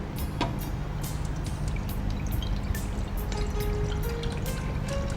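Two glasses of water are poured into a pressure cooker while boiling dal and snake gourd, a steady splashing pour with a few sharp clinks over a continuous noisy kitchen background.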